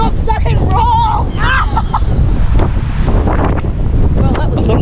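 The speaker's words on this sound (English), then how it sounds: "it's very windy out here today" Strong wind buffeting an outdoor microphone in a continuous loud roar, with a voice speaking briefly beneath the gusts.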